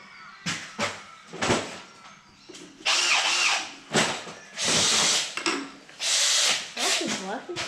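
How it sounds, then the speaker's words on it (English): A power drill whirs in repeated bursts while a sheep water trough with a cistern float is being built, the motor revving up and stopping several times between brief talk. "Get a drill going."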